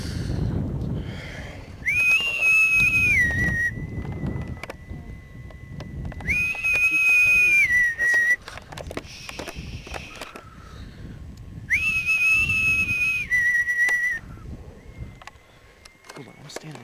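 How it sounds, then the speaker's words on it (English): People whistling outdoors at night, three long, clear whistles spaced several seconds apart, each rising and holding before trailing off, with faint voices and low background noise in between. "Just try like whistling, like."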